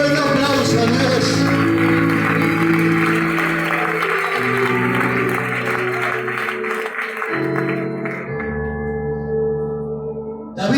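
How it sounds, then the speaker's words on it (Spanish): Strong applause rises from a church congregation in an auditorium during a prophet's sermon, steady and loud for about ten seconds over sustained organ or keyboard chords, fading near the end. "Dale un fuerte aplauso a Dios."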